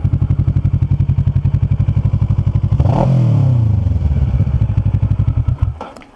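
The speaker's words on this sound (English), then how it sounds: "That one last rev before they turn off their bike?" A motorcycle engine idles with a steady pulsing throb, rises in a sharp rev that falls back, then cuts off abruptly near the end, loud and close.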